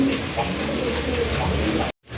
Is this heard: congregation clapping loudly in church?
no